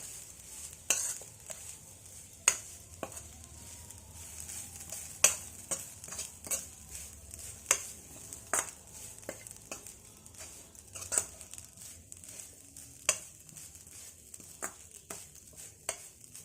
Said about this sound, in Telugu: మళ్ళీ ఒక స్పూన్ నెయ్యి వేసి కొబ్బరికూరు బాగా వేపుకోవాలి